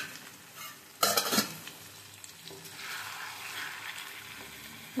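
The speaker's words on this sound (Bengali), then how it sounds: "ভালো করে মিক্সিং করে নেবো এবারে" Chicken darbari curry with a splash of milk being stirred in a frying pan: a sharp utensil clatter against the pan, then a soft steady sizzle with light scraping.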